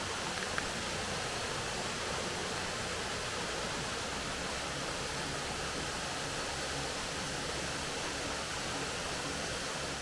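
A constant, even rush of falling water from a Scottish waterfall at Kinlochleven fills the scene, a soft broadband roar with no pauses.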